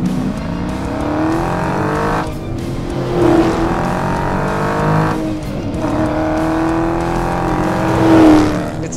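A 2020 Dodge Challenger R/T Scat Pack Widebody with a 485-horsepower V8 and manual transmission roars through repeated rising revs, with dips between gear shifts and a deep, loud rumble.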